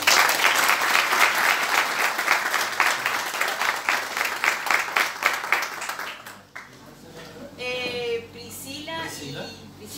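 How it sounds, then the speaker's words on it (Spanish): An audience at a school World Blood Donor Day event breaks into dense, loud applause for about six seconds, then the clapping fades into scattered voices, including children's. "aplaudimos a la profesión"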